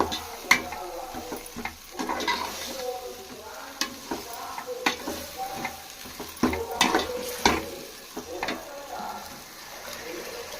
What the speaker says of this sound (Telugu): చూడండి, ఇది ఏ విధంగా ఫ్రై అవుతుందో.